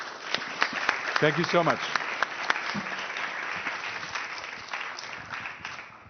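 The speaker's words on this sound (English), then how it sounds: "I want to have a big applause for the panel." Audience at a healthcare prize panel discussion claps for the panelists, a moderate, sustained round of applause with someone briefly speaking over it near the start.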